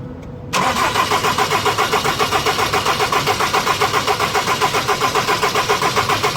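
A Ford Transit van engine cranks and catches after a brief quiet moment, then settles into a steady, rhythmically pulsing idle, heard up close.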